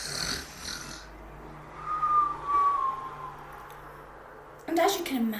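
A voice imitates loud snoring for a children's story about a noisy sleeper, giving drawn-out rasping snores with a whistling tone between breaths, close and clear.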